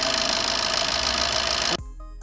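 A car engine runs steadily at idle during an emission test with a smoke meter, loud and close, then cuts off abruptly near the end.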